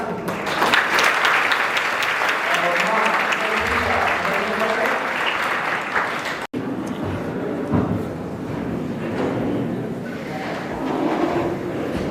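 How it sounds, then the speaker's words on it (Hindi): An audience at a science-and-poetry stage event breaks into loud, sustained applause, a dense wash of clapping that thins slightly after a brief cut and carries on steadily to the end. "जोरदार तालियां।"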